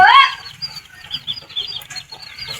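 Chickens clucking in a Thai farmyard, a hen near her chicks, with a louder squawk at the start followed by soft, repeated clucks and chatter at moderate distance.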